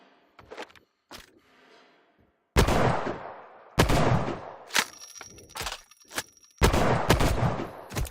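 Gunfire from a video game rifle rings out in sharp bursts: a few scattered shots early on, then loud, dense volleys of rapid fire with short gaps between them, with no talking over it.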